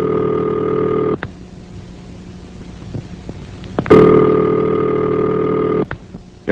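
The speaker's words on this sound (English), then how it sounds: "And this is the ringing signal." Telephone ringing signal heard through an old exchange line, two long steady ring tones separated by a pause, clear and close.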